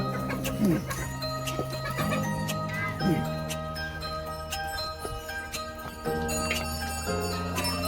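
Hens cluck and murmur throughout an enclosed poultry shed, with tonal hum and occasional sharper calls.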